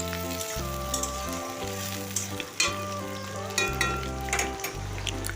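Sliced onions fry in a pan of oil for a chicken curry, giving a steady close sizzle broken by occasional scraping stirs, with no voices.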